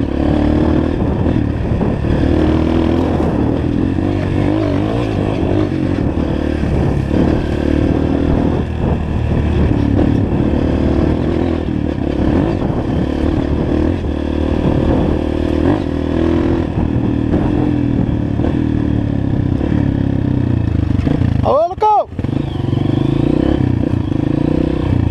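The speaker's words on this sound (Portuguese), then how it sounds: "O Lucas acelerou para frente." A motorcycle on a dirt trail accelerates continuously and loudly up close, its engine rumbling and rising with clattering over the rough ground, and a brief sharp burst of noise near the end.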